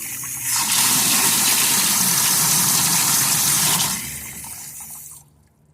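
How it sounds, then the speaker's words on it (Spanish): Water rushes loudly into a water storage tank through a newly opened valve, a steady close gush lasting several seconds before tapering off sharply. "Vamos a abrir la llave y revisamos el flotador."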